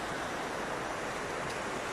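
Fast, high river water rushing steadily past eroding cliffs during a fossil-hunting walk, a continuous broadband wash heard close and fairly loud with no talk.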